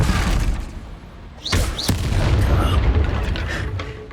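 A Depulso spell strikes in Hogwarts Legacy with a sharp whooshing impact burst over rumbling game ambience, followed by a second cracking hit and a lingering low boom.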